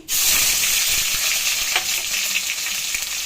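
Grated onion hits hot oil with a sudden loud burst of sizzling that settles into a steady, hissing fry, close up and uninterrupted.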